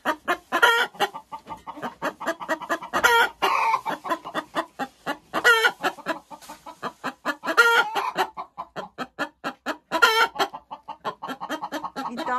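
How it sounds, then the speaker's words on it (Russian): Domestic laying hen cackling loudly and repeatedly after laying an egg, a steady run of sharp, close clucks and squawks that fills the whole stretch with only brief gaps. "это вот когда так кричит курица"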